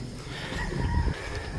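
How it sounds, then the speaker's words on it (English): A pit fighting rooster crows once in the background at a property in Cebu, a clear cock-a-doodle-doo of moderate loudness over faint ambient noise. "There goes one now crowing in the background."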